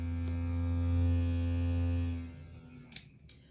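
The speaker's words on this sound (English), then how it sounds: "This is a Regina face washer." A Regina electric face washer runs with a steady, loud electric hum and buzz for about two seconds, then winds down and falls quiet, followed by two faint clicks.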